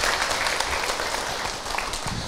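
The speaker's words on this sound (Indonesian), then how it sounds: "Tepuk tangan Bu Ustadz Abi." An audience claps steadily throughout, a dense continuous round of applause at an Islamic talk show taping.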